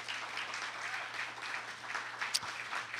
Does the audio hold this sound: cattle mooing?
no